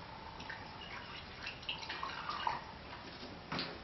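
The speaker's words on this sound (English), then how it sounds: "We'll pour this in a cup." Acetic acid is poured into a cup, a faint trickling, dripping splash of liquid with small plops and a brief louder gurgle near the end, quiet and close.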